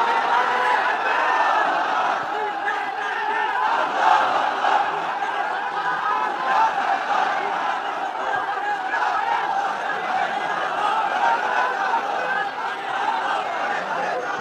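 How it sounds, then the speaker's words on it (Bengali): A crowd gathered for a Bengali religious sermon raises a sustained, loud collective shout of takbir, a continuous mass of many voices chanting together throughout. "তাকবীর দেন তো একজন আওয়াজ করে"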